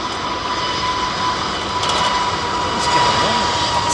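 Jet airliner engines at London Heathrow Airport give a steady, loud whine with a sustained high-pitched singing tone over broad roaring noise, continuous throughout with slight swells in loudness.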